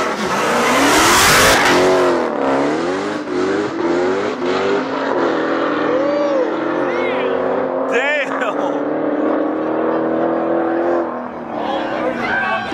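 A Nissan GT-R roars through a street race, its engine climbing loudly in rising revs across several gear changes while excited voices shout over the noise.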